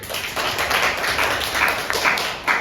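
A classroom group claps together during a secondary-school chemistry lesson on salt hydrolysis, giving a short burst of dense, steady applause that fills the room for a few seconds.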